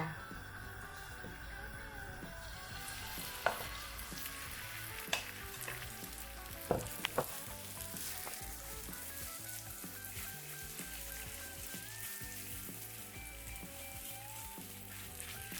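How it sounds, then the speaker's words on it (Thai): Continuous loud sizzle of potato pancake batter frying in hot oil over medium heat, with occasional sharp clicks and scrapes of a utensil against the pan. "กระทะแล้วน้ำมันเริ่มร้อนแล้วเราก็ใส่ลงไปเลยค่ะ"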